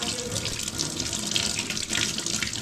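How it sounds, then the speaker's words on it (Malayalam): A tap runs steadily into a sink as hands are washed, a close, continuous splashing hiss of water that fills the whole moment with no voices. "കൈ കഴുകുന്നു."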